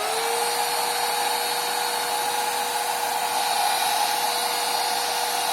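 A 70mai portable cordless vacuum cleaner runs with a steady, loud whine and airy hiss, a high motor tone rising briefly at start-up and then holding constant throughout, with no talking.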